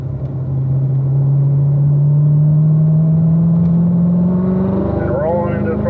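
A performance car accelerates out of turn 4 on a race circuit at a driving school, its engine note climbing steadily in pitch as throttle is rolled on, loud and close, with a brief gear-change warble near the end.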